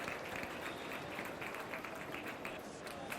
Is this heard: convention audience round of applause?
yes